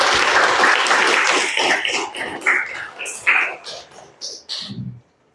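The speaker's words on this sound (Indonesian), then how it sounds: "tepuk tangan buat temannya." Classroom applause from students rings out as a burst of scattered clapping, loud at first and thinning into a few trailing claps, with a voice and some throat noise mixed in.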